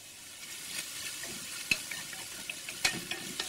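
Dry-cured bacon, grated zucchini and button mushrooms frying in a pan over medium heat, giving a soft, steady sizzle with a few sharp clicks from a stirring utensil.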